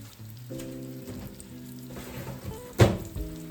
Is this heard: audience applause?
no